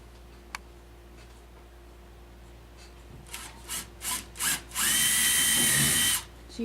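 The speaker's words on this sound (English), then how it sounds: "Now, I need to drill the holes through." A power drill pre-drills holes through a wooden door jamb during a door installation: several short bursts, then one longer sustained run of biting into the wood, recorded close up in an otherwise quiet room.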